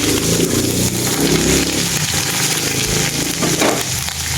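Food fries in a pan in a rural farm kitchen, giving a loud, dense, continuous sizzle throughout with no voices.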